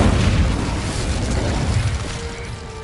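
Incendio fire spell in the Hogwarts Legacy game, a loud whooshing burst of flame that roars steadily for a few seconds and then eases slightly, with a faint ringing tone near the end.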